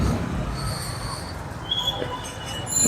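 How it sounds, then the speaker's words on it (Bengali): A train rolls through a railway level crossing in a city, steel wheels squealing in high sustained tones over a low rumble of moving wagons, fairly close and steady throughout. "ট্রেন"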